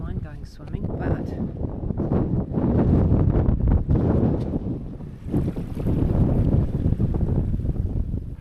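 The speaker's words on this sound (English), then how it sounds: "it's so windy" Strong coastal wind roars and buffets against the microphone outdoors by the water, a loud, continuous gusting rumble that swells and eases in waves, while a person talks over it.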